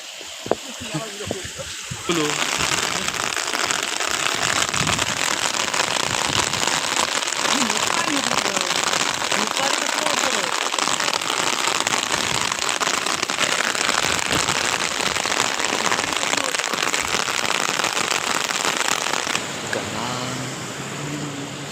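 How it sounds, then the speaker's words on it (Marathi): Heavy monsoon rain roars in a dense, steady hiss for most of the stretch, starting and stopping abruptly, with a few voices and knocks early on, outdoors in Konkan. "पाऊस आलाय मित्रांनो मोठा पाऊस आलाय"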